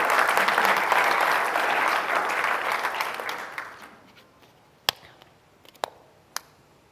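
Audience applause at a Hawaii County Council District 7 candidates forum, a dense burst of clapping filling the room for several seconds before thinning out, followed by a few isolated sharp claps.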